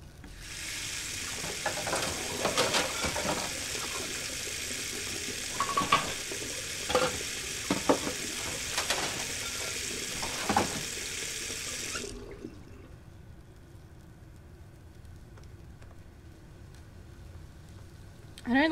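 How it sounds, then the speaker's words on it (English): A frying pan left sizzling on a stove in Beyond Two Souls, a steady hissing crackle with faint clinks that runs for about twelve seconds and then cuts off abruptly, leaving quiet room tone. "I don't like the idea of the frying pan staying on there"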